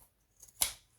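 Scissors cut through fabric while rounded corners are trimmed on a handmade sewn dish holder, giving one short, crisp snip after a couple of faint clicks, close and quiet with no talk.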